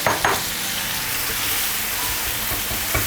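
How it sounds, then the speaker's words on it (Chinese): Minced meat and potatoes sizzle and are tossed in a hot wok with dark soy sauce, shallots and chilies, giving a loud, continuous frying hiss broken by a few scraping stir strokes. "这步呢下入我们的土豆，去翻炒它一下"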